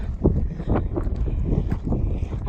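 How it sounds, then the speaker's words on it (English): Wind gusts across a mountain road on a long-distance trail, buffeting the microphone with heavy, rumbling low blasts that swell and fade continuously. "Woo, and we have wind."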